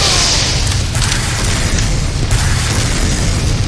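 Explosion from an explosive-radius weapon in a video game, a loud sustained booming roar with a rumbling low end that fills the whole stretch.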